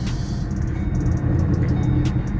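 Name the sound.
modified 2014 Shelby GT500 engine idling loudly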